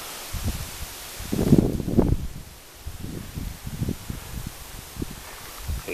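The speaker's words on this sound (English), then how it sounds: "out there from the wind blowing off that tree" Gusting wind rushes through tree branches and leaves outdoors, swelling into a louder burst and then easing off into softer, uneven rustling waves.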